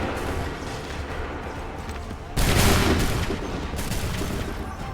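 Musket volley fire in Assassin's Creed 3, a dense crackling burst of many shots erupting together midway, loud and booming, after a rumbling battlefield bed.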